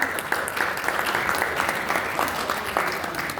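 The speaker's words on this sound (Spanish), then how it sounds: "Le pido un aplauso para mi compañera Gladys." An audience at a talk on problematic substance use among children applauds steadily, a moderate wash of many hands clapping with no speech on top.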